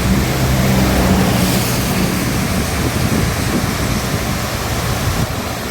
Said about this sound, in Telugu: ఆ వాటర్ ఎంత ఫాస్ట్గా పడుతున్నాయో ఎంత సౌండ్ వస్తుందో